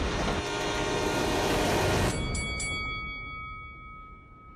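A train roars past on railroad tracks, loud rumbling and rattling wagons that cut off abruptly, leaving a sustained horn-like tone fading away into the distance.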